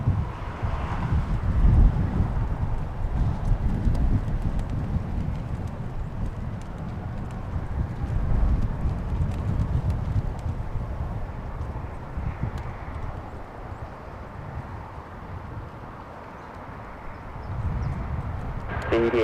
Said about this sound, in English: the wind is really powering, really coming in